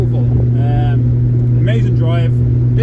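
A 1972 Triumph TR6 on a road test, its engine droning in a loud steady hum from inside the cabin while someone talks over it.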